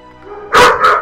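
A dog barks indoors, two loud sharp barks close up, the second shorter, with no talk over them.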